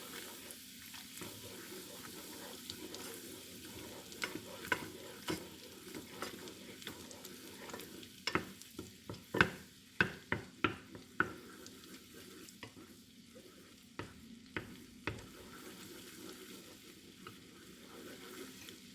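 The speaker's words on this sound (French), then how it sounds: "Je veux mettre le beurre. Voilà. Et j'attends le beurre qui est fondu." Butter melting in a pan for a béchamel sauce for lasagne, with soft sizzling and a few clicks and taps of a utensil against the pan. The clicks bunch together near the middle and the sound stays fairly quiet throughout.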